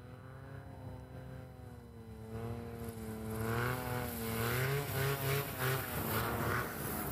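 STOL aircraft powered by a Yamaha 998 engine at a Lonestar STOL practice event, a buzzing engine note that rises and warbles in pitch as it revs up, growing louder toward the end, heard from a moderate distance with no talk.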